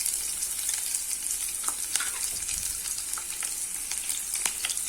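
Chopped large onion and garlic frying in a pan for garlic tomato rice, a steady close sizzle with scattered crackles and pops throughout.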